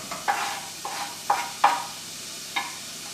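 Onion dropped into melted coconut oil in a hot frying pan, giving several short sizzling bursts with quiet gaps between them, close up.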